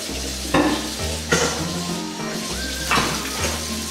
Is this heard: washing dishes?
yes